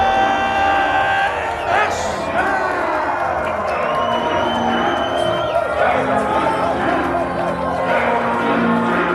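Loud, steady roar from a crowd at a Nordic Elite Wrestling event after a pinfall finish, with cheers, whistles and shouts over continuous chatter. A commentator's voice is also heard.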